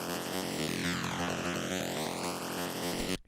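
A dry, stretched synth loop with audible digital artifacts pulses in a steady repeating rhythm, close and alone, before cutting off abruptly.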